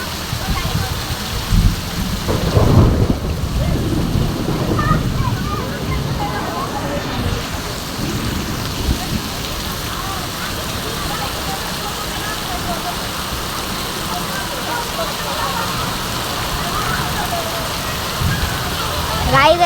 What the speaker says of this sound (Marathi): खूपच पाऊस आला इथं.